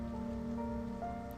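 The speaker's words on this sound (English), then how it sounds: "The rain kept falling for a long time." Rain falls steadily in the video game Steins;Gate 0, an even patter under sustained tonal background music.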